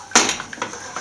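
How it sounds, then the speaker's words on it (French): A metal frying pan of salted-butter caramel slid aside off the burner, giving one sharp clatter followed by a couple of lighter knocks, close and brief. "On réduit le feu et on met la poêle à côté"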